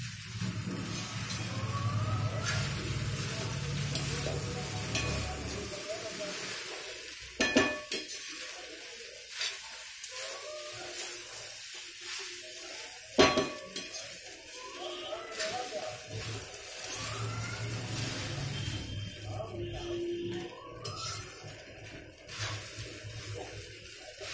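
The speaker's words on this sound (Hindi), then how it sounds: "इसमें धनिया पत्ती डाल दें अब इसे मिक्स करें" Flattened rice with peas (chuda matar) being stirred with coriander leaves, producing steady scraping and clinking of a spoon against a pot, with a couple of sharper knocks, under a low background hum.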